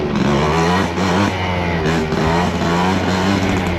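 A motorcycle engine revs hard in first gear on a rough trail, loud and close. Several sharp rises and dips in pitch repeat over a continuous rumble.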